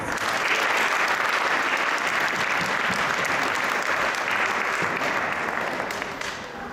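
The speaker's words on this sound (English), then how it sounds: "We can give another round of applause." A temple audience at ISKCON Toronto gives a round of applause after a lecture, steady dense clapping from many hands throughout before easing off slightly at the end.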